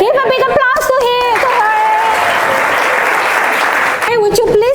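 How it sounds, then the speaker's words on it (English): Classroom applause breaks out in a burst of steady clapping from a group of students, loud and close, with a teacher's voice speaking over the start and end. "Give a big applause to her."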